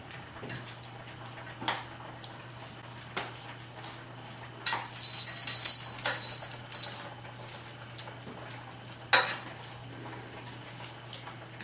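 Cutlery scraping and clinking in a bowl while pasta is mixed with tuna, lemon and parsley, sparse close taps and a brief rattling flurry midway, then a sharp clink.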